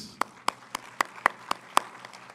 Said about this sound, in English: I would actually like to applaud each one of you.